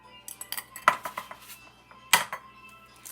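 A utensil works through sponge cake batter in a bowl, giving irregular clinks and scrapes with two louder knocks against the bowl rim, close up and without talk.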